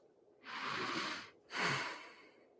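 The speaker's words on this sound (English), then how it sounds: "Breathing in and out the nose." Two slow, steady breaths drawn in and pushed out through the nose during a stress-relief fascial exercise, each a soft airy rush lasting close to a second, close and quiet with a short pause between them.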